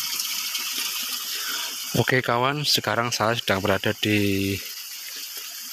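A small river flows beside a garden, a steady rushing wash of water running the whole time, with someone speaking over it for a few seconds in the middle.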